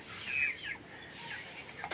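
Chickens cluck near a garden bed of hanging eggplant, with a short burst of calls early on and then a steady hiss of background noise.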